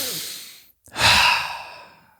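A single deep breath: a short inhale, a brief pause, then a long, audible exhale like a sigh that fades out, close and alone.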